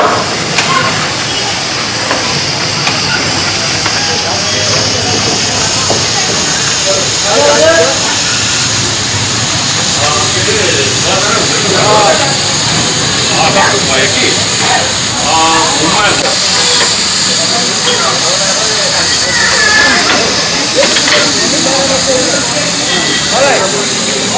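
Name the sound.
Darjeeling toy train steam locomotive hissing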